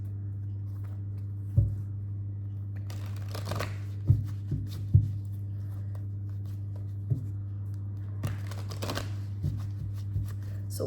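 Tarot cards are shuffled and drawn as clarifiers, giving soft papery riffles and scattered light taps and slaps, quiet and close, over a steady low electrical hum.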